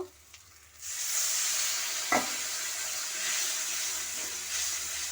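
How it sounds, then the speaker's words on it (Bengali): Spice masala sautéing in a pan with a little water after a quiet start, giving a loud steady close sizzle with one sharp clatter of a utensil partway through, no voices. "আমি কষ মশলাটাকে ভালোভাবে কষিয়ে নেব"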